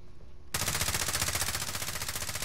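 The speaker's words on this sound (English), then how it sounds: "Who's shooting?" Sudden burst of rapid automatic gunfire in Call of Duty: Modern Warfare, starting abruptly after a brief quiet moment and continuing as a loud, steady stream of shots with no voices over it.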